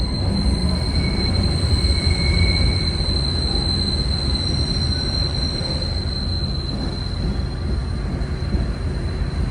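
A Philadelphia Broad Street Subway train rolls steadily with a heavy, continuous rumble. Its wheels squeal throughout in thin, sustained high-pitched tones that shift slightly near the end.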